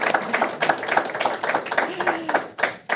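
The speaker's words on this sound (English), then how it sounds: "You can applaud" Audience applause at a corporate talk event, a steady rhythmic clapping of many hands lasting throughout, fairly close, with a voice briefly heard over it.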